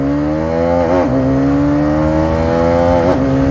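A Hero Karizma XMR motorcycle accelerates on a touring ride, its engine whine rising steadily with a quick dip at each gear change, loud and close throughout.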